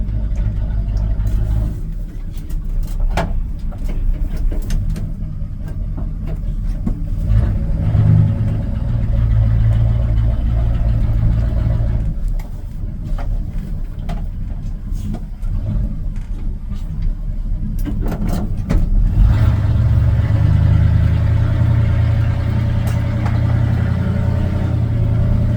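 A 1978 Chevrolet C10 pickup with a swapped carburetor runs while driving, heard from inside the cab as a loud, continuous low engine rumble that swells and eases with the throttle, with occasional rattles.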